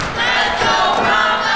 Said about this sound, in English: The crowd rallying behind Bronco once more